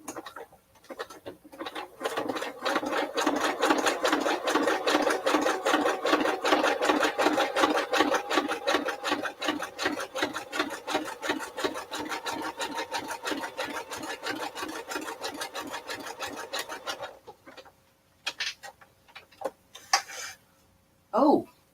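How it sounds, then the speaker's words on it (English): Sewing machine needle stitching across a zipper on fabric while making a fat quarter project bag, a long steady rapid rasping run of stitches that stops near the end, followed by a few short bursts. "Now I'm going to see if this needle will sew over top of this"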